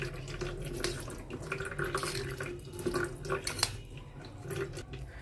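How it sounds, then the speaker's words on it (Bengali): Water from boiled taro leaves drains through a kitchen sieve, a steady close trickle and splash that runs for a few seconds with no voices. "এরপর এই ছাঁকনির মধ্যে জলটা ছেঁকে নেওয়া হচ্ছে।"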